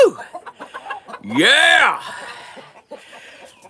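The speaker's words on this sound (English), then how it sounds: "So this is my silky roosters." Spurred silkie roosters being moved give a loud rising-and-falling squawking call in the middle, with shorter clucks and a shouting voice around it.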